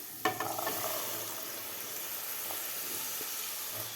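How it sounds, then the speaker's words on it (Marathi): Boiled black chickpeas, added with a little of their cooking water, are sautéed in cooked masala for a Mumbai-style chana chaat: a scrape of the spoon at the start, then a steady close sizzle and hiss with a few faint stirring clicks. "आता व्यवस्थित आपल्याला हे चणे परतून घ्यायचे आहेत"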